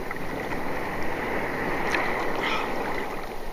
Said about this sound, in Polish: O, idzie gigant fala.